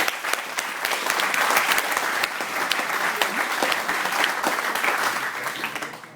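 A startup weekend audience claps for the pitch session, a loud, dense, sustained round of applause filling the whole stretch with no voices on top.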